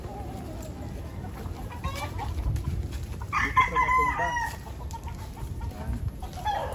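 Chickens cluck and a rooster crows in a rural outdoor setting, fairly close and mixed with rustling and a brief voice in the background.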